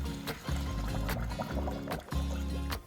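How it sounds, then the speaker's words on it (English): Hot water from a pot of boiled eggs pours out in a steady rushing, splashing stream with a few louder gushes and clatters, loud and close throughout. "pour out the hot water"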